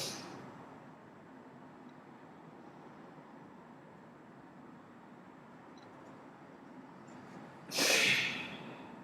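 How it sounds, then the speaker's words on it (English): Breath drawn in and held, then flushed out in one forceful, close exhale near the end after a long quiet stretch with low room hum. "that's the breathing technique"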